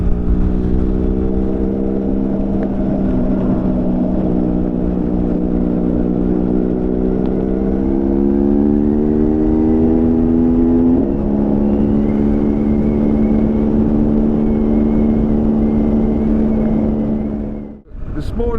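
A steady engine drone with rising harmonic tones from a BMW R1250GSA motorcycle cruising on a road in rain mode, continuous and fairly loud with wind noise, ending in a brief dip.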